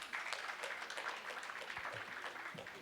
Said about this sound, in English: Ladies and gentlemen, can I have a round of applause?